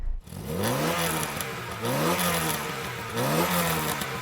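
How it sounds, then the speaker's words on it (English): A 1.6-litre 16-valve Volkswagen Golf GTI engine revs up and down several times in close succession, loud and near, the pitch rising and falling with each blip of throttle. "That revs really well."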